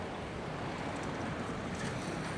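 Rough, ferocious ocean surf at Da Nang, a steady broadband roar of crashing waves with wind buffeting the microphone, loud and continuous throughout with no voices.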